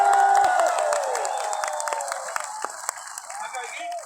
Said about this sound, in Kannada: ಹೌದು ಅನ್ನೋದಾದ್ರೆ ದೊಡ್ಡ ಚಪ್ಪಾಳೆ ಅವರು